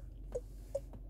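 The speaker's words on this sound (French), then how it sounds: "C'est un bruit des clignotants" Soft turn signal ticks of a Citroën DS4, Urban Rhythmic sound setting, repeat at an even pace, three quiet clicks over a low steady hum.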